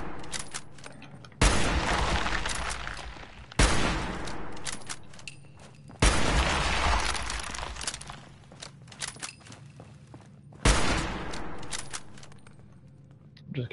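Gunfire during a video game boss battle: several loud bursts of rapid shots with booming impacts, separated by quieter stretches, close and heavy.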